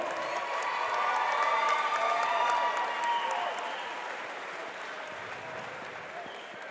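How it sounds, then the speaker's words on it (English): A crowd at the Cage Titans XXXVIII cage-fighting event applauds and cheers for two fighters, a steady roar of clapping that swells, then slowly fades while staying loud throughout. "let's get a big round of applause for these two fighters"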